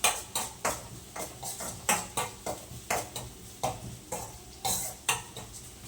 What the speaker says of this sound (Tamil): ஆனியன் வதங்க ஆரம்பிச்சிருச்சு.